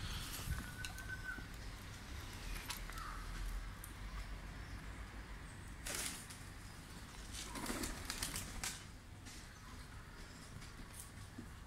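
Pigeons cooing in a pigeon coop, soft low coos and some wing flaps among a flock, heard at moderate distance over steady background noise with no talk.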